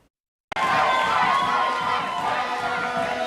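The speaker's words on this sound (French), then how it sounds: "Hier soir, lors de son arrivée à l'aéroport Aimé Césaire, une foule est venue l'acclamer." A crowd greeting returning champion cyclist Mickaël Laurent at Aimé Césaire airport, Martinique, bursts into loud, steady cheering and shouting that starts abruptly after a short silence and carries on as a dense roar of many voices.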